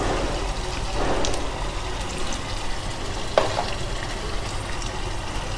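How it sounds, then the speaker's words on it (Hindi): Beaten egg batter is poured into a pan of cooked tomatoes, bringing a continuous moderate sizzle of frying with a couple of soft scrapes and clatters partway through and no talking. "अब इस टाइम पे आकर मैं डाल दूंगी अंडों का सारा बैटर।"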